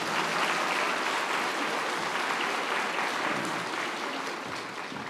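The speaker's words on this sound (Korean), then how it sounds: "다시 한번 박수 부탁드리겠습니다" A congregation at a church winter camp evening service applauds in a dense, sustained wash of clapping that stays even throughout and fades slightly at the end.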